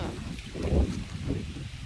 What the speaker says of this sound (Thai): ลมมาแบบนี้เข่าทางเลยพี่น้อง